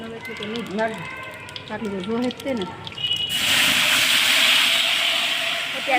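Spices hitting hot oil for a Gujarati vaghar tempering burst into a loud, steady sizzle and hiss that runs on without a break, following a stretch of people talking nearby in a home kitchen.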